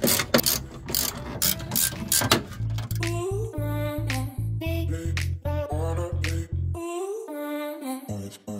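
A hand ratchet tightens a lock nut on a rock slider during an install on a Jeep Wrangler TJ, with loud, close, rapid clicking bursts that give way to slower, separate ratcheting strokes.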